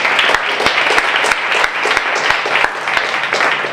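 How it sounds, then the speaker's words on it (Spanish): Workshop participants give a round of applause, close, loud clapping where individual sharp hand strikes stand out in an irregular rhythm over a few seconds. "les damos un aplauso"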